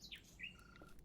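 A short bird chirp, a quick high tweet with a trailing whistle, sounds as a cue in a video game sound puzzle, faint over a low steady background hum.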